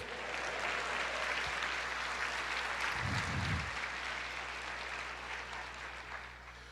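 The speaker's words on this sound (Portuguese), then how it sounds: "aplauda o Senhor" Congregation applause during an Easter church service, a broad steady wash of clapping from a large crowd with a low hum underneath and a brief deeper thump partway through.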